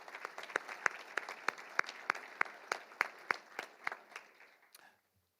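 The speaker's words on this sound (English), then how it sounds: "So a round of applause for everybody now who is assembled here today" Audience applause at the Michigan College of Optometry White Coat Ceremony for the Class of 2024: steady, evenly paced clapping with sharp individual claps standing out, tapering off and stopping near the end.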